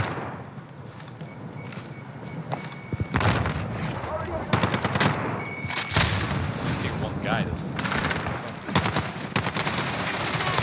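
Modern Warfare game gunfire fills the scene with dense, continuous rattling bursts and booms, loud and close, with explosive hits layered over a constant battle roar.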